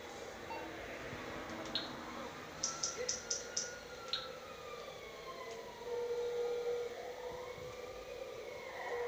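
Ambulance siren in GTA 5, a faint, distant wail rising and falling under soft game sounds, with a few short beeps earlier and no talk.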